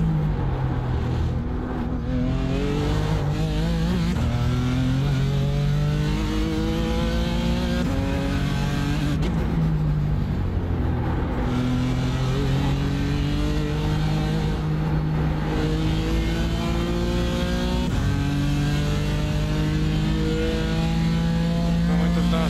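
A BMW M4 GT4 race car engine in the iRacing sim on the Detroit Belle Isle street circuit, loud and continuous, rising and falling in pitch through repeated gear shifts as it accelerates and brakes through corners.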